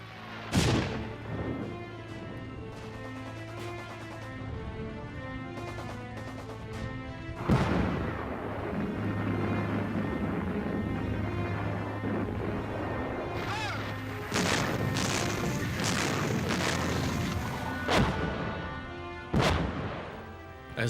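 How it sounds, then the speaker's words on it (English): Artillery guns open up ahead of a Canadian assault in Italy on the Hitler Line during the Second World War. Several heavy booms land at irregular intervals over a sustained low rumble and tonal background, some shots hitting singly and others in close pairs. "As the guns open up to prepare the Canadian assault"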